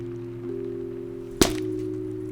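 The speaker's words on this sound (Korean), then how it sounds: "뭔가가 으깨지는 듯한 소리" A crushing, cracking impact used as a sound effect in a Korean horror story, heard as one sharp, loud crunch midway through a low, steady droning hum, with a brief rattling tail after it.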